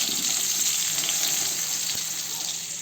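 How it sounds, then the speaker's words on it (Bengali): Potatoes fry in oil in a kadai for chicken curry, a steady close hissing sizzle with faint crackles and no talk. "এই যে দেখো আমি চিকেন করার জন্য আলু ভেজে নিচ্ছি কড়াইয়ে"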